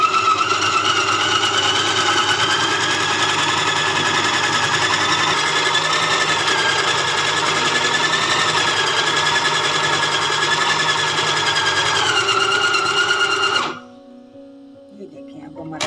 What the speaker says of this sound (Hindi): और इसे अब हम अच्छे से ब्लेंड कर लेंगे, ताकि ये बहुत ही अच्छे से हर चीज़ जो है ना आपस में मिक्स हो जाए।